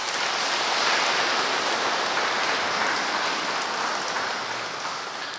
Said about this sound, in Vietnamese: Xin được chúc mừng giáo xứ Hoàng Nguyên chúng ta một tràng pháo tay.